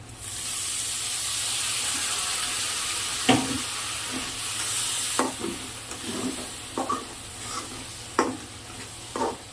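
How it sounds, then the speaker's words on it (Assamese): Meat and masala sizzle steadily in a pan after a splash of water, a broad steamy hiss running throughout with occasional scraping stir clicks and small pops. "মছলাটো সিজিবৰ কাৰণে অকণমান পানী দি দিছোঁ।"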